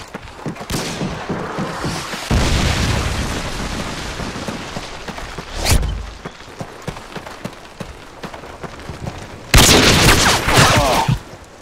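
A Predator missile strike in Call of Duty Modern Warfare 2 multiplayer brings loud booming blasts, with scattered gunfire between two heavy explosions.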